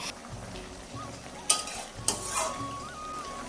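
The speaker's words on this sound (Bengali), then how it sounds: "তো এখন হালকা করে ঢাকনাটা উঁচু করে আমি ভালো করে ঘেটে দিচ্ছি এগুলো" A spatula stirs vegetables such as Malabar spinach, eggplant, pumpkin and potato with fried fish roe in a lidded pan, with a soft fry under a few sharp metal scrapes and clinks against the pan.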